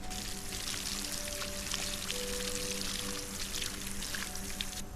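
Watering can filling with water in the video game SolarPunk, a steady continuous pour with a light splashy trickle and a faint tonal hum underneath, held evenly throughout.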